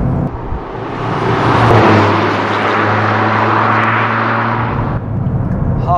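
A 2023 Toyota GR Corolla Morizo engine revs hard up to the rev limiter, a loud, close, sustained drone that holds steady, then cuts off abruptly near the end.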